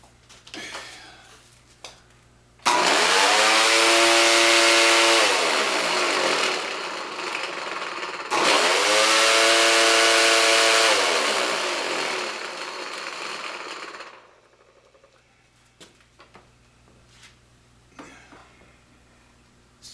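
A weed trimmer fitted with a heavy steel wire attachment revs up loudly, whining steadily for several seconds, briefly drops, then spins up again before winding down to quiet.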